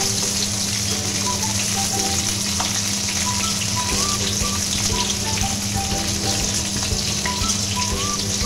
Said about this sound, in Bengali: একদিকটা ভালো করে ভাজা হয়ে গেলে অপর দিকটাও সমানভাবে ভেজে নেব।